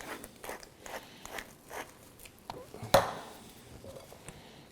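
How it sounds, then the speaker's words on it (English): Salmon popper filling being stirred with coarse pepper in a bowl, giving soft scraping and squishing taps with one sharper clack near the middle, close and moderately quiet. "We'll throw a little coarse pepper in here. Then we're just going to mix it up."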